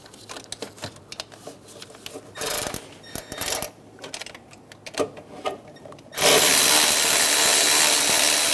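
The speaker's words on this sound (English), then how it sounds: "Snug the bolts down." Starter bolts on a 2003-2007 Honda Accord 3.0L V6 are snugged down: a run of sharp, close metallic ratchet clicks and short scraping bursts, ending in a sustained loud rasping whir.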